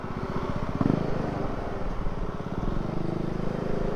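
A motorcycle engine idles and runs nearby in Pangasinan, Philippines, a faint, steady pulsing putter with a rhythmic low thrum over outdoor background noise, without clear speech.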